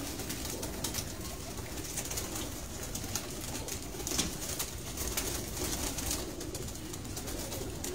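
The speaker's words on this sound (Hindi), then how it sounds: "बड़े से कबूतर है काले मुंह वाले" Large black-faced pigeons kept in a loft in Lyari, Karachi, cooing softly and steadily against a dense, even background hum, with no talk.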